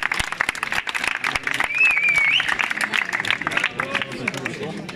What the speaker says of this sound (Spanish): Un aplauso, gente, un aplauso.